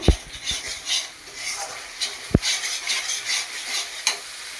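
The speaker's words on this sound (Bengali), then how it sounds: "মশলাটা কষাবো" Masala frying and being stirred in a pan for mutton curry, a steady soft sizzle under scattered scrapes of a spoon, with a couple of sharper knocks against the pan.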